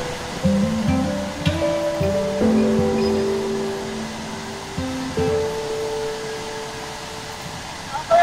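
Waist-deep floodwater rushes with strong pressure through flooded Metro Manila streets during Typhoon Carina, a steady, loud roaring wash that runs throughout, with scattered tonal hums and faint background voices.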